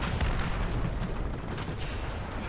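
Tank cannon fire in the War Thunder video game, shots aimed at a T-26, comes as dense, sustained booming and crackling gunfire, loud and continuous with no talk.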